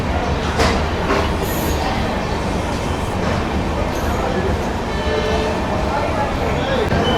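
The Agartala Express, train 15664 from Silchar to Agartala, heard from inside a crowded coach as a continuous rolling rumble with wheel clatter and occasional squeals, with voices talking over it.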